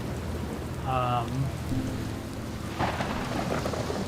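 A thunderstorm over a cyclone on water in the video game Outer Wilds, with steady rain and a low rumble of thunder, brief tonal chirps early on and a burst of crackling near the end, heard close and without talk.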